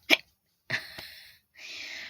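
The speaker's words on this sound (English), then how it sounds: "I got a bad case of hiccups." Three separate hiccups, each a sharp, close, breathy catch followed by a short voiced tail, spaced about a second apart, with no other sound between them.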